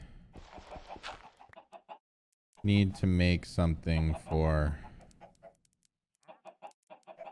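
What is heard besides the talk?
chickens clucking in the video game Minecraft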